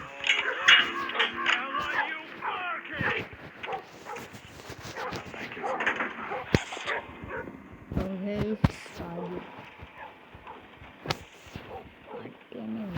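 Dog barks and whimpers in a horror escape video game, short yips and growls scattered among game effects, with someone talking over them throughout.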